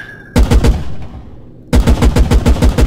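Loud, close automatic cannon fire in a military video game, aimed at a BMP armored vehicle: a burst of rapid rounds, a short echoing pause, then a second rhythmic burst.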